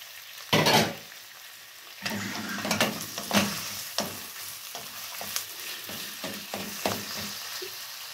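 Beef strips hit a hot pan with ginger and are stir-fried for a beef, bamboo shoot and broccoli dish, giving a steady crackling sizzle with sharper bursts and scrapes as the meat is tossed, close and alone without talk.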